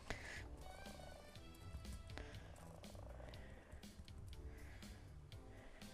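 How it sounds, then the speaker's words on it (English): A cat purrs in a low, continuous rumble close by, steady throughout with faint soft noises mixed in. "I heard the kitty"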